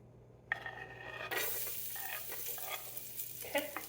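Diced garlic hits a hot pan for spaghetti sauce and starts to sauté, first a short sizzling burst and then a steady, close crackle broken by occasional stirring scrapes.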